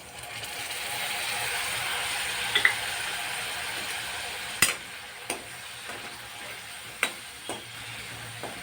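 Masala is stirred into cooked-down tomato in a hot pan for desi macaroni pasta, with a steady sizzling hiss followed by several distinct scraping clicks from the spoon against the pan.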